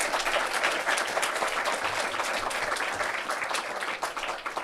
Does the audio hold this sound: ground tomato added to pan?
no